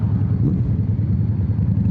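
A Yamaha Dragster motorcycle with twin exhaust rumbling nearby, a steady deep low engine drone with slight throbbing pulses, loud and continuous with no talking.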